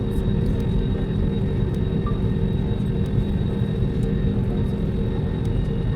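A steady, loud low rumble of a jet engine holds constant throughout, like an airplane powering up on the runway, with no talking.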